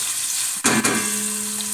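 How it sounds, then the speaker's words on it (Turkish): Onions fry in a pan for Turkish kısır, a steady close sizzle with a brief louder burst of crackling as they are stirred. "Güzelce soğanlarımızı kavuralım."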